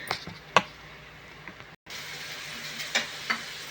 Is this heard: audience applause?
no